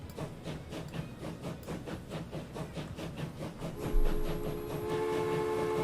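A steam locomotive in Transport Fever 2 chuffs along in a steady, rhythmic beat of exhaust puffs, with a thump near the end followed by a sustained hiss and whistle-like tones, fairly quiet with no talk.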